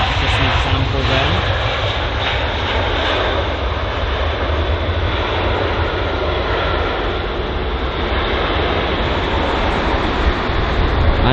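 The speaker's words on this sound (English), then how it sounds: "This aircraft in front of us is the A319." An Airbus A319 at London Heathrow produces a loud, steady jet engine roar that holds its broad rushing drone throughout, close and unbroken.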